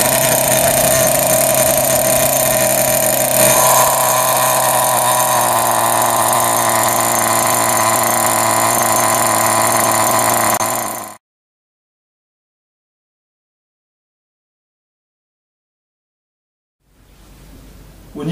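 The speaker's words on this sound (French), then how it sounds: "on démarre le moteur, on laisse tourner le moteur en vidant deux pleins sans rouler." Nitro-powered RC car engine idling on a stand during break-in, run rich without driving: a loud, steady buzzing drone that cuts off abruptly partway through, followed by silence and a brief return of sound at the end.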